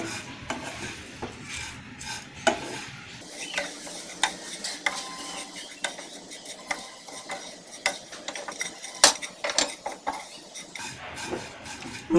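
Semai vermicelli browning in ghee in a pan, stirred steadily with a utensil, giving repeated scraping and clinking strokes over a soft sizzle, close and fairly loud with no talk.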